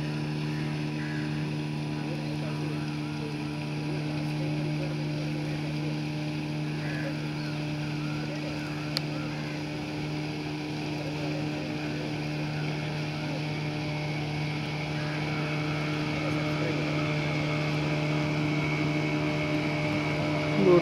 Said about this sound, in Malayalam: ബോട്ട് പോയി പോയി.